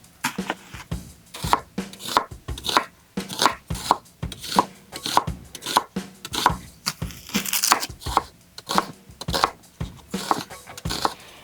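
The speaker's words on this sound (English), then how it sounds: "I'm gonna show you how to chop these vegetables." A knife chops vegetables on a cutting board in a home kitchen, with rapid, even thuds repeating loudly and closely throughout, and no talking.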